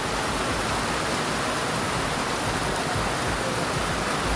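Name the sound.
heavy rain falling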